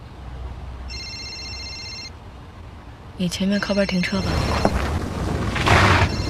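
A telephone rings with a steady electronic trill early on, followed by a person speaking.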